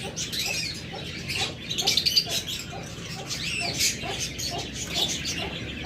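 A caged opaline breeding pair of pet birds, likely budgies or lovebirds, chirps and squawks nearby in quick irregular bursts, with a faint background murmur.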